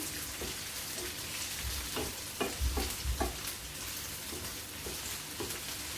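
Peppers being stirred in a pan, a soft continuous sizzle with a few light scraping and knocking strokes of the spoon in the middle, fairly quiet and without speech.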